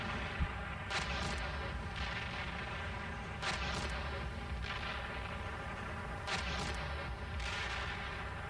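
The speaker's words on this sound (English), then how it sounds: "Hatch is just bombing the shit out of that hill." Distant artillery bombardment of a hill by combat engineers, heard as muffled booms and rumbling impacts recurring every second or two over constant wind and engine-like noise.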